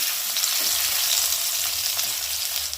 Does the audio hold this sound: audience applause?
no